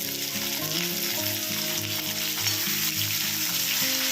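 Chopped onion goes into hot oil in a pan for a Bengali fish curry and sizzles loudly and steadily up close, with a dense, unbroken crackle and no voices.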